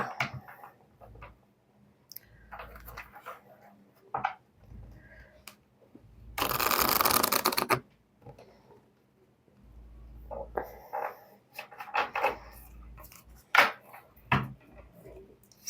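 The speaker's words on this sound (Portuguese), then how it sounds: "Esse tarô aqui é um pouquinho difícil de embaralhar, porque ele veio meio amassadinho." Slightly crumpled tarot deck being shuffled by hand: a dense burst of riffling card noise for about a second midway, with scattered soft taps and rustles of handling before and after.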